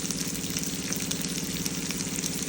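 Onions tipped into a hot oiled pan with curry leaves for a Telugu broad-bean curry, frying in a steady, close, crackling sizzle that holds at an even level throughout.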